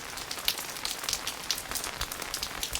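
Heavy rain falls steadily in the mountains of Mukteshwar among walnut trees, a dense, even hiss of drops striking surfaces nearby, with no voices.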